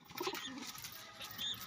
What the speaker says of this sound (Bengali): এই যে পায়রাগুলো দেখছেন